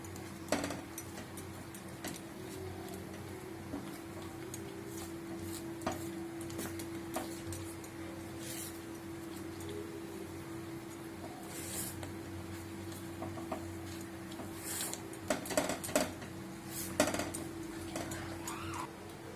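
Mango pudding is stirred continuously in a pan, giving soft, faint scraping and intermittent clinks of utensil against cookware over a constant low hum, with a few louder taps near the end.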